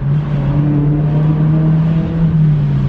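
A car engine revs as the driver rev-matches a downshift into second gear, giving a loud, steady, close-up drone with a low hum that barely varies for the whole stretch; no voices.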